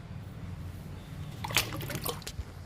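Liquid fertilizer poured onto a potted Aralia indoor plant, a soft close trickle and a few drips over a low background hum.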